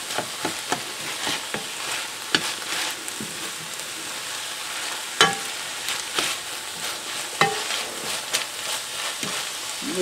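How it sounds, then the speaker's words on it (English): Chopped potatoes tumble into a hot soup pot with softened vegetables, setting off a steady sizzle with scattered sharp clicks and stirring scrapes, close and continuous with no talking. "I'm going to add my chopped up potatoes"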